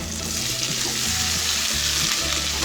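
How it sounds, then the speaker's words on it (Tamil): Boiled raw banana pieces are stirred in a hot frying pan, making a loud, continuous close sizzle with scraping stirs running through it. "நல்லா கிளறி விட்டுக்கலாம்"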